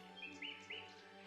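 Birdsong from trees in the PC game Beyond the Edge of Owlsgard: a few high, faint chirps repeat softly over a steady low ambient hum.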